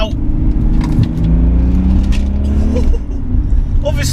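A 260 bhp diesel BMW 330 E46 engine rumbles loudly and close, rising in a quick rev before settling back, with a second brief dip near the end.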